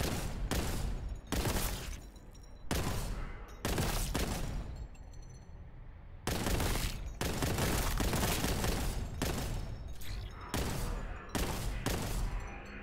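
Bursts of gunfire in Warhammer 40,000 Boltgun as a sniper is shot, loud repeated volleys lasting about a second each with short gaps, no talk over them.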